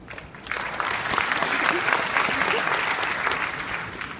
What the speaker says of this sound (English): Clapping for Indo-European language.